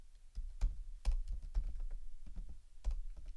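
Keys on a computer keyboard clatter in short irregular bursts of taps, close and fairly soft, with brief pauses between clusters of keystrokes.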